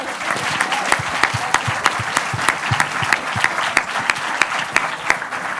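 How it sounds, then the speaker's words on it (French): Warm applause from the audience at the awards ceremony of a French film festival in Brive, steady clapping crowd with sharper individual claps standing out in a loose rhythm near the front. "Donc vraiment, vous pouvez les applaudir."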